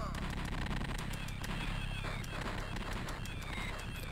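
Cannons in the arcade game Rampart fire in a fast scatter of short pops and booms over a low rumble, fairly faint, with a voice talking over part of it.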